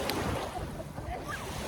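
Sea surf washes onto a beach during a trip near Montpellier, France, a steady broadband rush of breaking waves mixed with wind buffeting the microphone.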